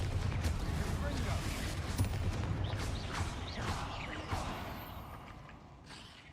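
Explosive spell blasts from a Harry Potter video game fire in a dense barrage, with booming impacts over a continuous rumble and crackle throughout, easing slightly toward the end.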